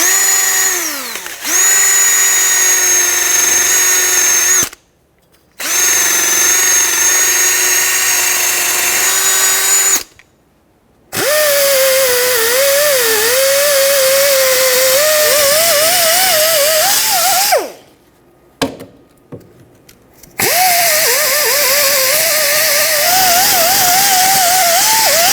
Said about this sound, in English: take a wire wheel, clean this outer ridge